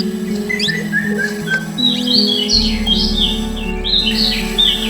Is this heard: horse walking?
no